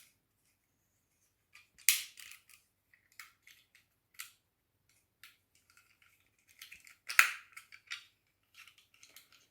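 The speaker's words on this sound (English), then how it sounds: "Copter 2 now needs to fold the rotors in, and it will replace Submarine 4 as the left leg" Plastic parts of a stiff Transformers Energon Optimus Prime toy being folded and clicked into place, with scattered sharp snaps and small rattles, two louder clacks standing out among quieter handling noises, close by with no talk.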